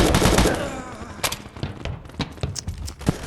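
Gunfire in a shooting video game: a burst of rapid shots opens loudly, then scattered single and double cracks and thuds follow at irregular intervals, fairly close.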